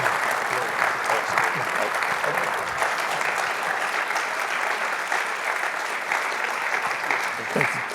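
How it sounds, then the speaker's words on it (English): Audience at a State of the Market event applauds a panel with sustained, loud clapping from a large crowd, mixed with faint cheers and murmuring voices throughout. "Huge round of applause"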